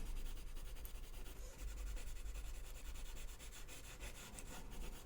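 Colored pencil shading on paper, a faint continuous scratchy rubbing with quick back-and-forth strokes, close and steady throughout.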